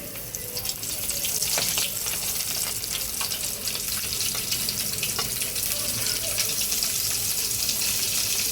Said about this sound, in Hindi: हमारी मच्छी एक तरफ से फ्राई हो गई है